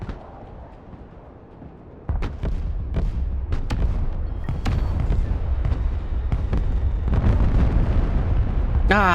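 Bombs exploding in a PvP video game, a rumbling barrage that starts abruptly and continues with repeated sharp blasts over a heavy low roar, loud and near.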